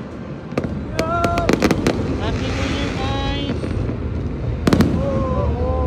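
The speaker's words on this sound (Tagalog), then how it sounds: "These fireworks are amazing." New Year fireworks burst over Manila in a busy celebration, with sharp cracks clustered early and again near the end over a steady crowd roar, while people cheer and speak close by.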